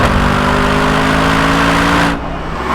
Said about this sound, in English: this engine still feels, well, you have to really think about revving it all the way out.